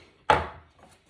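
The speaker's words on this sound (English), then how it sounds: "we'll cut that lemon in half" A knife cuts through a lemon in a single sharp chop against a board, near and clear, followed by quiet.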